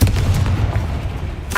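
A Confringo blasting curse detonates in Hogwarts Legacy, a loud, close burst with a deep rumbling boom that decays over a second and a half, ending in a brief sharp crack.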